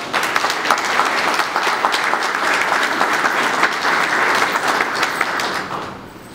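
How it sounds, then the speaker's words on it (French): Sustained applause from the audience at a health ministry agreement signing ceremony in Kinshasa, a steady dense clapping that holds evenly for several seconds before tapering off at the end. "Je peux déjà vous applaudir pour cela."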